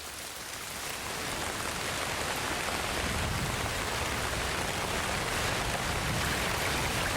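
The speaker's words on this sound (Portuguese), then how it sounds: "as chuvas chegam com toda a força" Heavy rain pours steadily over the Amazon rainforest, a dense, constant hiss of downpour that stays loud and unbroken throughout, with no voices.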